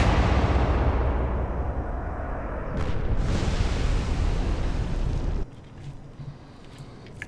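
Naval gunfire in the Atlantic Fleet video game produces a heavy, rumbling roar of broadband noise that swells, holds for several seconds, then drops abruptly to a quieter rumbling tail.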